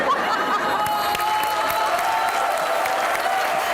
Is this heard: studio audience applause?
yes